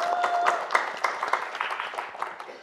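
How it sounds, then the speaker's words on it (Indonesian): Audience applause welcoming Kak Dilan at a Comic 8 comedy roast, scattered claps rising and thinning over a couple of seconds, moderately loud with a faint steady tone beneath. "boleh minta tepuk tangannya buat Kak Dilan"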